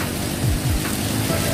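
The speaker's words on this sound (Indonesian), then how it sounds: "Karena hujan besar" Steady heavy rain pours down in a dense, continuous hiss with a low rumble underneath, heard from shelter under a railway bridge in Bumiayu, Indonesia.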